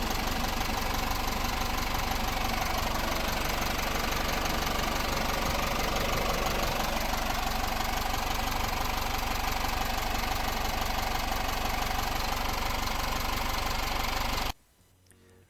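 A used 2015 Hyundai County 20-seat bus with 116,000 km idles close by, a continuous low diesel rumble with a faint knocking texture, running alone for about fourteen seconds before cutting off abruptly.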